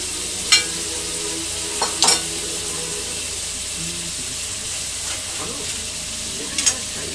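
Chicken, about a kilo, tipped into a pan of fried spice masala for a home chicken curry, giving a steady broadband sizzle with a few sharp stirring clatters scattered through.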